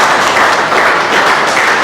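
A large audience at a university gathering gives sustained, loud applause for the rector, with a dense, even wash of clapping throughout.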